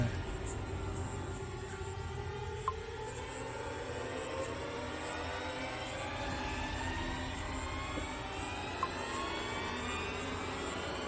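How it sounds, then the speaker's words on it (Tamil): A generator runs steadily outdoors, a constant broad mechanical drone with a low rumbling hum that holds at a fairly loud level throughout, with faint voices in the background. "இது ஜெனரேட்டர் விடுங்க"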